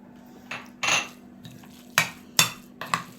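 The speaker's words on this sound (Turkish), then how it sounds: "iyice karıştıralım arkadaşlar" Onion stuffing with garlic, pomegranate molasses and parsley being mixed with a spoon in a bowl, giving about five separate close, sharp clinks and scrapes at uneven intervals, with a faint steady hum underneath and no talk.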